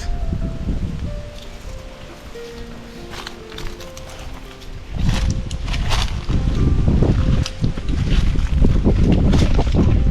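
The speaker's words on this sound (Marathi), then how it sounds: "वारा सुटलाय का" Wind blows through a Ratnagiri Hapus mango orchard in Konkan, rustling the leaves. It starts mild with some tonal sounds, then strengthens into louder, gusty whooshing through the second half.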